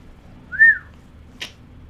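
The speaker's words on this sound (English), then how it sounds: "Her ears went up because I whistled." A person whistles a single short rising-and-falling note, fairly close and clear, followed by a brief sharp noise in an otherwise quiet setting.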